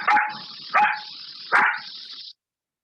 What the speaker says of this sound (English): Like the example of the puppy barking, our ears detect the sound